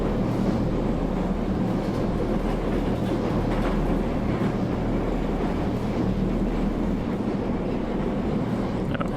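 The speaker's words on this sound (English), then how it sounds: "Can't actually open the train doors. Probably wouldn't want to since the train's still moving." Interior of a moving train in a PC video game demo, a continuous, steady low rumble of wheels and carriage with a constant hum, no voices over it.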